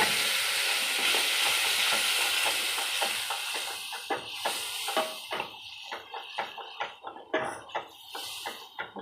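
Lentils tipped into a pan of sizzling spiced oil, with a steady fry hiss under repeated stirring scrapes that grow louder and more rhythmic toward the end; no one talks.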